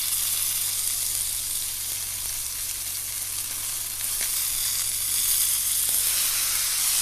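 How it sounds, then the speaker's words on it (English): Beefsteak searing on its fatty edge in a hot pan, a steady, loud sizzle and crackle that carries on without a break, close up, with no talking. "Give it another check. Another little sear on its skin."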